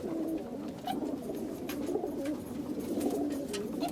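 Many pigeons in a coop coo in overlapping low, throaty rolls, a steady murmuring chorus close by with occasional soft flutters, no voices heard.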